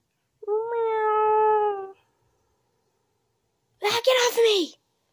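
A voice imitates a cat's meow in one sustained, clear cry, followed after a pause by a second short cat-like yowl with noisy breath, as a sound effect for a Toca Boca video game.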